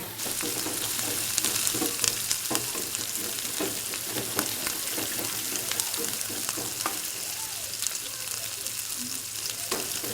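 Fried potatoes sautéing in a spiced masala, a loud steady sizzle and crackle of hot oil with scraping stirs throughout, close up and with no voices.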